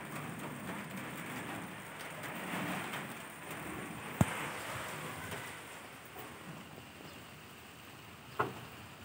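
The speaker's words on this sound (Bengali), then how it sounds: "জানলা দিয়ে বৃষ্টি দেখতে দারুণ লাগছে" Steady rain outside a window, a soft, even patter with a few sharp drips and a distant low rumble, fairly faint.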